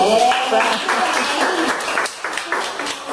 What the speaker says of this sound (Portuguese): Palmas para Arthur!